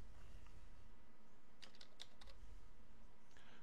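A short run of computer keyboard keystrokes, a handful of quick faint clicks clustered together over a steady low hum, as a folder name is entered.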